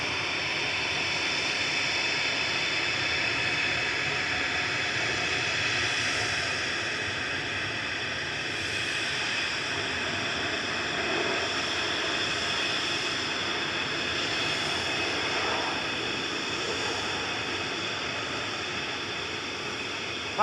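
Virgin Atlantic A350-1000 jet arriving at Manchester Airport from New York JFK, a long, steady distant engine roar with a faint hiss, slowly easing in loudness, with no talk.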